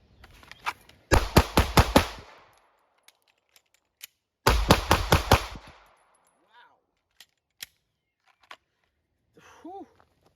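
A handgun fires two fast strings of five shots during a shooting-on-the-move drill, the loud, sharp reports coming in quick rhythmic bursts with a magazine change between them, followed by faint footsteps and clicks.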